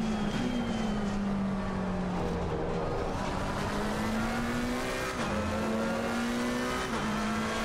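A McLaren 720S Evo GT3 race car in Assetto Corsa Competizione at Imola, with a steady engine note that drops and rises as the car brakes and accelerates again, continuous and up close with no talking.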